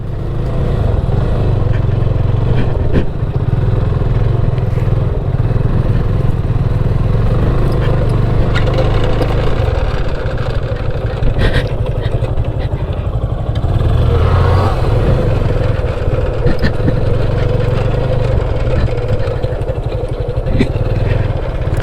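A Yamaha FZ25 motorcycle engine runs steadily, a loud continuous low drone with slight rises in revs, close and constant throughout with no talking.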